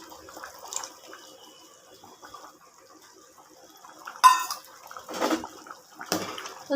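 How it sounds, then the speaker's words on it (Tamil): Quiet kitchen background, then short splashy bursts of lemon juice being poured into a boiling pot of chicken biryani, a few separate pours close by. "இப்போ இந்த லெமன் சாறை ஊற்றலாம்."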